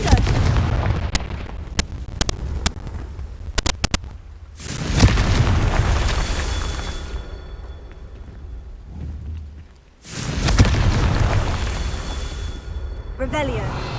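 Confringo spell blasts in Hogwarts Legacy explode as heavy booms with rumbling tails, several sharp impacts followed by two big rolling detonations that fade out, loud and close.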